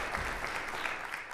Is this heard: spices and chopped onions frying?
no